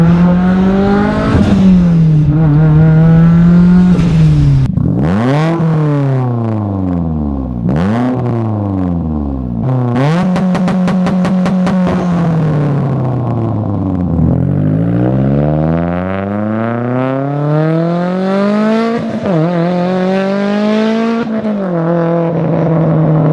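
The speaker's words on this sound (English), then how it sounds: "It's the droniest sound I think I've ever heard come out of a car." Loud Mitsubishi Evo X exhaust revving hard and close, the drony engine note repeatedly climbing and dropping in sharp sweeps, with rapid bursts between longer pulls and no voices.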